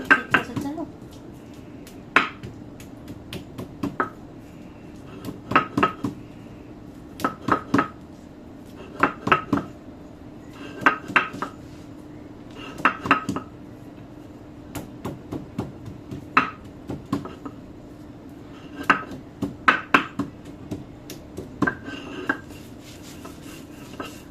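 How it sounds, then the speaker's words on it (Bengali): Jackfruit seeds being ground slowly into a paste for bharta: hard, irregular knocks and scrapes of stone or utensil against the seeds, coming in short bursts over a low steady hum, close and fairly quiet. "এখন কাঁঠালের বিচি আস্তে আস্তে বেটে নেব।"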